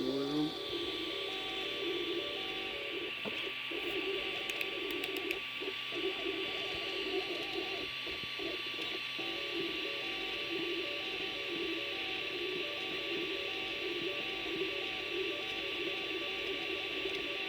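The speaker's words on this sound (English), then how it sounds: "so it's printing. That's tiny then. Yeah, it's printing out there" An Ender 3 3D printer at work, its fans giving a steady whir and hum throughout with faint stepper-motor tones and small mechanical ticks, heard from a short distance and continuous with no pauses.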